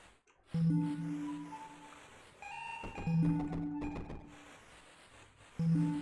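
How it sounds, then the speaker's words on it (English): Large bell tolling in a video game, three heavy struck tones with long ringing decay spaced a few seconds apart, clear and close with no talk. "That's a big bell, wow."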